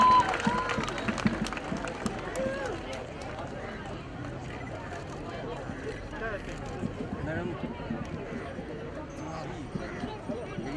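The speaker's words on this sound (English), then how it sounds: "huge round of applause for it" Outdoor street festival crowd clapping and cheering for a painting, a dense, steady wash of applause with a busy crowd murmur and voices mixed in throughout.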